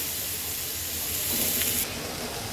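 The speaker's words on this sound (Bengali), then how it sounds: "সুন্দর করে মশলাটা তেলের মধ্যে আর সবজিটাকে ভেজে নেব" Vegetables and spices frying in hot oil on lowered heat for a fish and mustard-leaf dish, a steady close hiss and sizzle with no talk, briefly rising in intensity before easing off.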